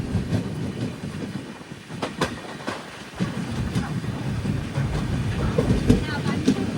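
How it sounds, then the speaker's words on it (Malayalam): Poorna Express train pulling into Mookambika Road Byndoor station with a continuous rumble and wheel clatter, loud and close. Voices murmur in the background. "മൂകാംബിക റോഡ് ബൈത്തൂരിലേക്ക് ഇതാ ട്രെയിൻ എത്തിയിരിക്കുകയാണ്"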